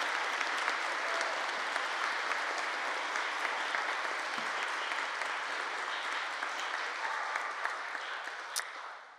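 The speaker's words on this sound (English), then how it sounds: "give them a round of applause for their participation" Steady applause from a concert audience honoring graduating choir seniors at a university choir concert, even and continuous, tapering off slightly at the end.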